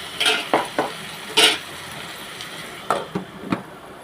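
Ivy gourd curry being stirred and mixed in a pan with salt and turmeric, a handful of short scraping and clinking spoon strokes in two bursts, fairly close and quiet, with no talk.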